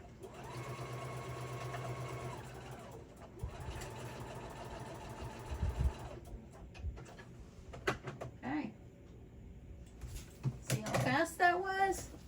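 A sewing machine runs in two steady whirring bursts while top-stitching an iPad sleeve, then stops, followed by handling noises and a brief voice near the end.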